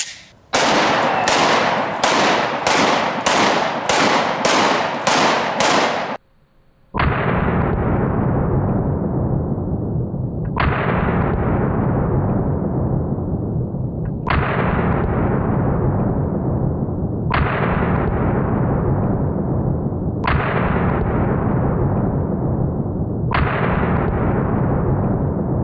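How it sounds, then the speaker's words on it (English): Gunshots fired at soggy pineapples outdoors: a rapid burst of about eight loud, close cracks, a brief pause, then six heavy single shots spaced a few seconds apart, each ringing out with a long echoing decay. "Now, we're gonna shoot some pineapple."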